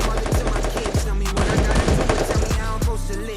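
Gunfire in the mobile shooter Free Fire rings out as loud, rapid automatic bursts and single shots, rattling over a dense game soundtrack of music and effects.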